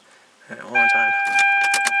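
An ignition key is turned in a car to prime the fuel pump: keys jangle briefly, then a steady electronic chime tone comes on while a person speaks over it.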